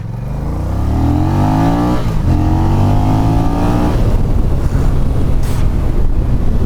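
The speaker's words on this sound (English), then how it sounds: "How much torque this bike has got in first and second gear." A 2024 Honda Rebel 1100 cruiser accelerates hard in low gear, its engine note rising in pitch, briefly dropping at a shift, then climbing again, loud and close under heavy wind rush.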